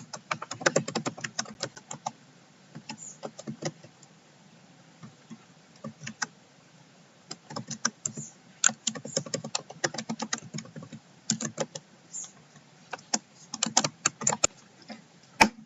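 Clinical notes are typed on a computer keyboard, close rapid bursts of key clicks with short pauses between runs, alone without any voices.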